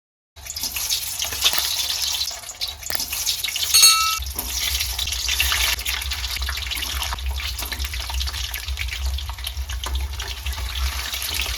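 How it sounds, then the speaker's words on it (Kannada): Eggs dropped into about four tablespoons of hot oil in a kadai for egg curry, giving a steady, loud broadband sizzle and crackle that runs throughout, with a brief louder burst early on. "ಇವಾಗ ಎಣ್ಣೆ ಕಾದಿದೆ ಇದರೊಳಗಡೆ ನಾನು ಮೊಟ್ಟೆನ ಹಾಕ್ಕೊಳ್ತೀನಿ"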